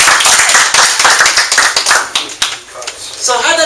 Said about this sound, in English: Give your number 4 a big round of applause